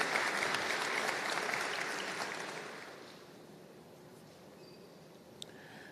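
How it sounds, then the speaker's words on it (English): Dense, steady applause from a university convocation crowd for distinguished leaders and clergy, loud at first and then gradually fading to a quieter hum, with a faint knock near the end. "Give them and yourselves a great big round of applause."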